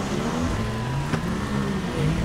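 In Spintires MudRunner, a Lexus LX 450 engine drones at full throttle, a loud, steady rumbling hum with a slowly shifting pitch and a brief click midway.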